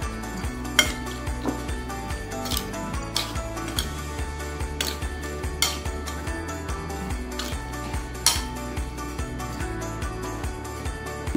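A spoon stirs and mixes ingredients in a bowl while preparing vegetable chicken biryani, making close, steady, rhythmic scrapes and light clinks against the bowl over a low continuous background tone, with no talking.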